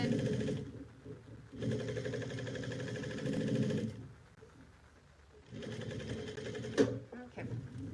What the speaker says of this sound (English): Back stitching, making sure my seam is open.